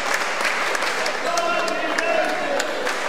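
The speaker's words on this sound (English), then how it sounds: "The Flying Aces getting a well-deserved round of applause from the FPW faithful" Applause from a wrestling crowd at a Future Pro Wrestling show, cheering the Flying Aces tag team: steady, dense clapping with crowd noise and voices mixed through the whole moment.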